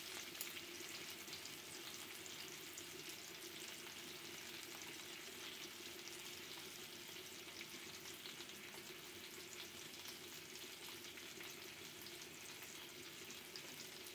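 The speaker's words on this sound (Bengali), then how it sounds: "মাছটা হালকা ভাজা হবে" Hilsa fish lightly frying in oil crackles and sizzles evenly and softly throughout, a steady close hiss with no talk.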